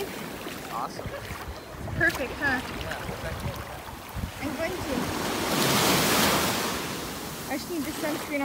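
Ocean waves at a swimming beach, a continuous wash with a louder surge swelling and fading midway, close by, with faint voices and splashes mixed in.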